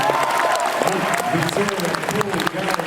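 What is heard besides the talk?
audience applause at Comic-Con panel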